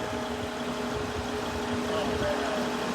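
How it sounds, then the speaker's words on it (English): A garden tractor engine runs steadily at a moderate distance while planting large king palms, a continuous low, even hum with a faint tonal drone and no clear speech. "It's like the tractor was made for this job."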